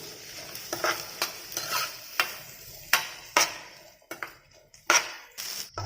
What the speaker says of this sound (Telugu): ఇవి బాగా ఫ్రై అయినాయండి బటర్లో